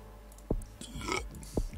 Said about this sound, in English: Sorry for burping there.